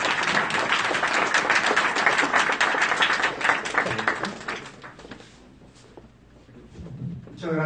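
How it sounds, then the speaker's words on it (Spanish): An audience at a Mexican human rights and justice forum applauds a guest speaker, a burst of many hands clapping that fades away after about four seconds, with quieter room noise following. "Un fuerte aplauso para el maestro Víctor Sánchez"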